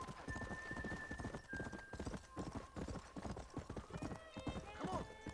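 Horse hooves clip-clop steadily in Red Dead Redemption, a continuous trotting rhythm with a whinny rising near the end, heard over game background and some talking.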